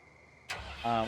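A tractor engine in Farming Simulator 19 cranks over with a sudden click and catches into a rising idle rumble, close and brief.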